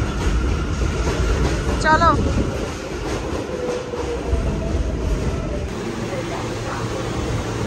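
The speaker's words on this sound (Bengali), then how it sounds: "ট্রেন এসে গেছে আমাদের" A New York subway J train rumbles into a station, a steady loud low roar with rail noise and a brief screech of wheels, while people talk briefly nearby.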